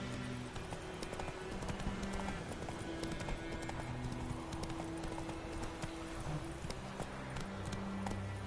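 Roach the horse gallops in The Witcher 3, with rapid, steady clip-clop hoofbeats running the whole time at moderate loudness over a faint game backdrop.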